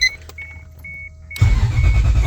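A 1UZ-swapped Toyota Supra engine starts with the key: a quiet click and a faint whine, then the engine abruptly catches and settles into a loud, close idle.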